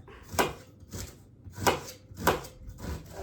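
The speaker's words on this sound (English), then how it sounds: "Just cutting the onion, as you all know." A knife chops a white onion on a board with four or five crisp, separate cuts at an uneven pace. The sound is quiet and close.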